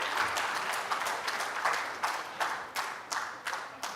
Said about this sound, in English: With a big round of applause, ladies and gentlemen, our international orator, Dr. Baljendra S. Kapoor